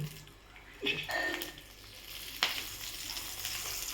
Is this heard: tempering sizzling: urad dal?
yes